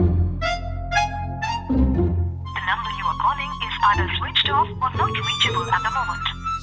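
A telephone ringing in an indoor household scene from a Tamil TV drama, its repeating electronic ring tones loud and near, overlapping with talking voices.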